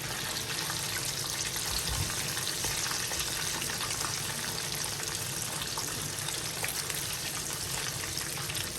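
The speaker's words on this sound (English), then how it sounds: "So now we have fried all the fish and we are basically done." Mackerel, a common fish in Ghana, fries in hot oil with a steady, loud, crackling sizzle that runs unbroken throughout, up close, with no talking.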